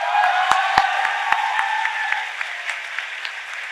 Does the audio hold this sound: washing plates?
no